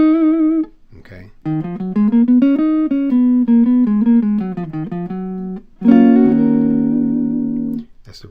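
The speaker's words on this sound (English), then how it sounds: "That's the relative minor 6th scale." Electric guitar running up the relative minor 6th scale as a line of sustained single notes, clean and close, with a brief pause near the start and a fuller ringing chord-like passage at the end.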